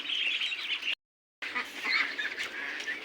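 A flock of ducks quacks and chatters continuously at close range, broken by a brief moment of total silence.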